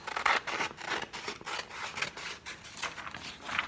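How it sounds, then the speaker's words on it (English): Scissors cutting across a paper worksheet, a series of rhythmic crisp rasping snips, close and moderately loud, with no talking. "But we're going to cut the bottom off."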